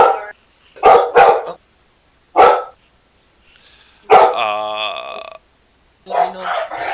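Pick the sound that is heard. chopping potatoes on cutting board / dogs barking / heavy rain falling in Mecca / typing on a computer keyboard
dogs barking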